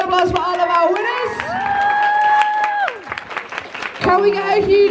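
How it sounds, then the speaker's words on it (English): Audience at a York Comic Con costume contest applauds and cheers the winners, a dense wash of clapping with whoops and shouts, loud and close, with voices calling out over it. "Can we get a huge round of applause for all of our winners?"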